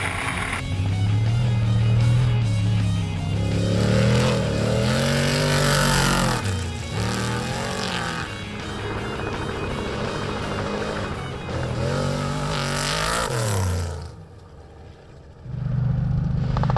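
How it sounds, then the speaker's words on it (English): A 454-engined off-road race truck from the Geyser Brothers, competing in the Goondiwindi 400 desert race, revs hard and roars past, the big engine note rising and falling through gear changes before fading and returning near the end. "The 454 Geyser Brothers truck smashing the conditions."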